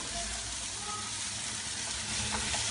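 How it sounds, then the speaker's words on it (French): Onions and carrots sautéing in a pan for osso bucco make a continuous, fairly quiet sizzle with faint stirring scrapes, heard alone without talk. "je vais faire revenir mes légumes"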